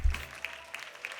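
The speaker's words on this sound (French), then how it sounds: "On va applaudir." A church congregation claps at a Mother's Day celebration, light scattered applause with a few distinct claps after a low thump at the start.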